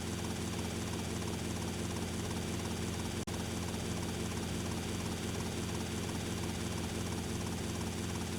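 A helicopter in the video game GTA Vice City drones with a constant dense rotor and engine roar, steady and loud throughout with one brief click partway through.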